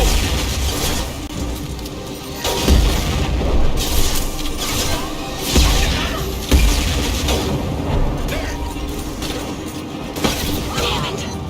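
Grenade detonations in Mass Effect 2 combat, several heavy booms spaced a few seconds apart amid steady gunfire and battle noise, with a character's shouted callout over the action.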